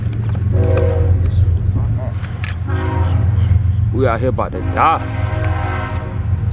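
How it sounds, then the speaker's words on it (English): A passing train rumbles steadily in the background while someone talks over it outdoors on a hot day, with brief rising tonal bursts that could be a horn. "Excuse that train, dude."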